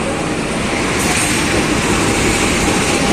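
KA Logawa business-class passenger train rolling along the line in East Java near Surabaya Gubeng, a steady loud rumble of wheels on rail with faint clatter, continuous throughout.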